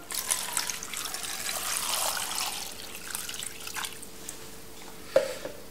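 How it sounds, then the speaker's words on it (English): A steady stream of water pours and splashes into a pot of potatoes, with a brief knock near the end; no talking. "What we're going to do now is going to top it up with water"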